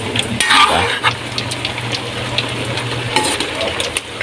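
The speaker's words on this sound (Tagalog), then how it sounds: "Medyo haluin natin." Chop suey vegetables, including celery, stirred and tossed in a frying pan, with a steady close sizzle and soft scraping clatter throughout.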